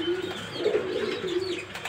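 A red checker racer pigeon gives a soft, low, drawn-out coo close to the microphone, a single continuous phrase with a slight swell in the middle and no talking.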